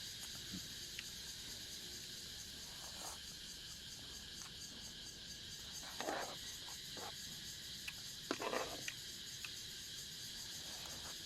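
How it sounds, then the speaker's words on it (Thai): Cicadas drone steadily in a high-pitched continuous buzz at an evening outdoor setting, with a few brief clicks and faint knocks scattered through. "ยังมีเสียงจักจั่นน้อยนึง"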